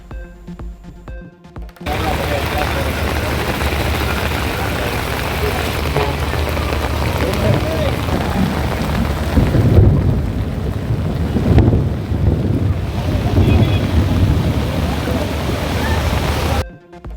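Heavy rain pours steadily at a flooded new bus station in Viluppuram, a dense, loud wash of falling water that swells and dips slightly over the span, alone without talk.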